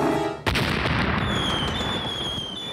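A cartoon explosion from a Woody Woodpecker episode, a sudden loud blast followed by a long crackling, hissing roar that slowly fades, with a whistling tone over the tail.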